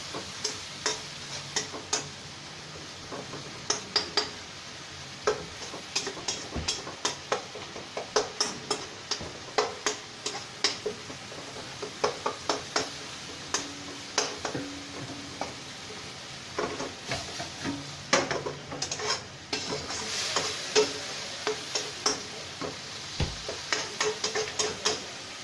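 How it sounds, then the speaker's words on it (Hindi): Spices being roasted in a pan for a Pakistani aloo anday curry, giving a steady run of soft ticking scrapes and light sizzle as a spoon stirs them, close and moderately quiet with no talking. "इसको अच्छी तरह मसाले को भून लेंगे।"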